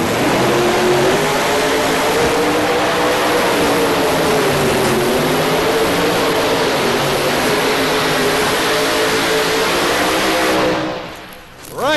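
A pulling tractor roaring at full power during the Saturday night finals of the championship tractor pull at the National Farm Machinery Show, a loud sustained blare with a slowly wavering pitch that cuts off sharply near the end.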